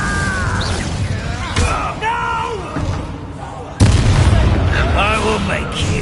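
An Incendio fire spell cast in the Hogwarts Legacy video game erupts as a sudden loud whoosh-burst about midway, over ongoing game music and character voices.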